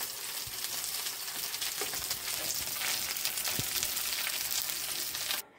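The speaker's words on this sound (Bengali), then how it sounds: "আমার বেগুন ভাজা অবশেষে হয়ে গেল" Hollowed-out brinjal frying in oil in a pan, a steady close sizzle and crackle with a few soft pops and clinks that stops abruptly at the end.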